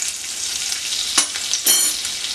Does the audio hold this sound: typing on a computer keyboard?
no